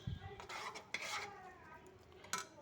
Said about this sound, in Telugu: వేసుకుని బాగా తిప్పుకుందాం